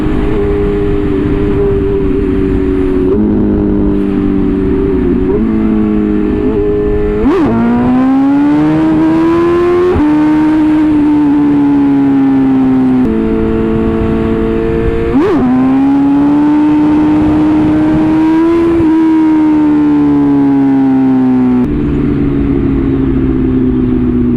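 A BMW S1000RR sportbike's engine revs loud and close in repeated surges, its pitch climbing and settling between blips with a sharp, high-strung wail.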